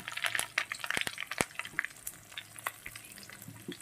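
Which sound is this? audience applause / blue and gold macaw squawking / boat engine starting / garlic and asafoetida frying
garlic and asafoetida frying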